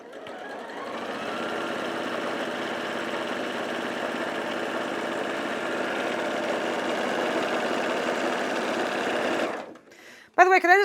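Sewing machine running steadily for about nine and a half seconds while stitching a seam with black thread for a new quilt, a loud continuous mechanical whir that stops near the end before a brief voice.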